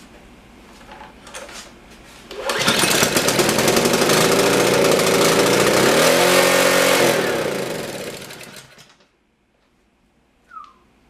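The small engine of a Yamaha MA190 pressure washer with no pressure roars up to a loud, sustained high over-rev for several seconds, then winds down and cuts off, leaving near silence with a faint click.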